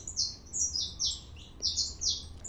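Saffron finch song, bright repeated descending chirp phrases in quick bursts, fairly close and clear over a low background rumble, with no talking.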